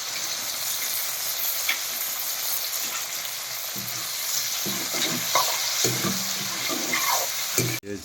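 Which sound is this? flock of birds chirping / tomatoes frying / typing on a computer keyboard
tomatoes frying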